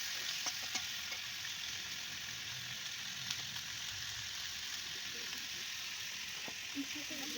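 Spinach, mixed vegetables and shrimp frying together in a pan, a steady close hiss of sizzling oil throughout with faint occasional clinks of stirring, no voices.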